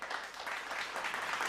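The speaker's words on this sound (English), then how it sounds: "May I have your very big round of applause," Dense, steady applause from an audience at an international conference on sustainable innovations at Universitas Muhammadiyah Yogyakarta, a continuous wash of many hands clapping with no talk over it.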